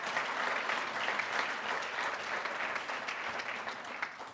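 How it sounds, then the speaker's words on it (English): An audience at the Elmhurst Chamber awards gala gives a steady round of applause, a dense, even wash of clapping from many hands lasting several seconds and slowly tapering off. "Give the city a great round of applause for doing that."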